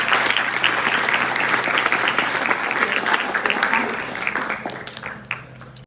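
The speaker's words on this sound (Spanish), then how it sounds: "Un fuerte aplauso para ellos." Sustained applause from an audience at a nursing capping ceremony, a dense steady clatter of many hands that thins and fades toward the end, with a low hum underneath.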